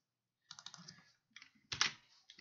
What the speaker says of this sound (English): We do that by typing in